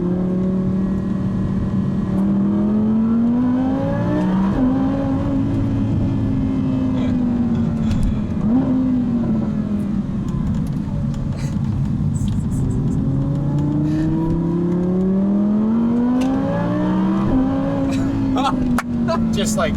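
A 2020 Can-Am Maverick X3 Max X RS Turbo RR UTV with twin clutches drives hard, its engine loud and close, revs climbing and dropping in repeated smooth surges with brief gear-change dips throughout.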